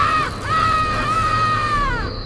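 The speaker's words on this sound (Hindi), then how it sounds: "रोहन की चीख निकल गई।" A woman's high, sustained horror scream, used as a sound effect in a Hindi ghost story about a witch in a white sari riding on a bicycle carrier. The scream is broken into a few long wailing cries.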